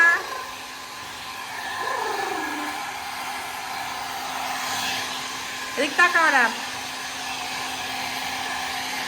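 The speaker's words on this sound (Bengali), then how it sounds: "এখন তাকে আমি হেয়ার ড্রায়ার দিয়ে মাথাটা শুকিয়ে দেব চুলগুলো" A hair dryer drying hair roars loud and continuous throughout, while a voice speaks briefly and a couple of short, high, wavering cries break in near the start and again later.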